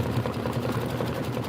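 A sewing machine runs steadily in a continuous, fairly quiet mechanical whir, alone with no voices.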